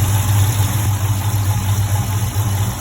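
A HEMI V8 car engine idles steadily up close, a loud continuous low rumble with an even mechanical patter that may hold a faint lifter tick, with no talking.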